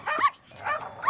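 Dogs in a Mr Bean animated cartoon give three quick, close barks and yips in a short burst, clear and alone without talking.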